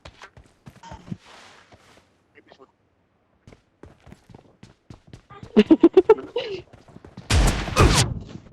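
Shotgun blasts fire in quick, sharp bursts during a 2v2 team deathmatch in the mobile game PUBG Mobile, with a rapid cluster of shots and a louder burst near the end amid sparse footsteps and occasional voices.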